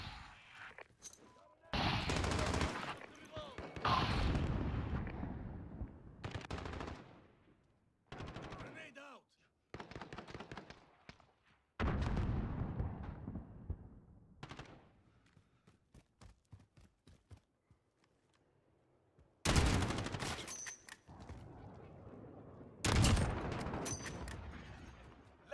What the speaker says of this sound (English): I just heard these shots.